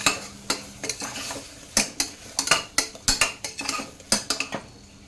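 A metal spoon scrapes and knocks against a pressure cooker pot as vegetables are stirred with salt, making a steady series of sharp clinks and scrapes at close range, with a faint sizzle underneath.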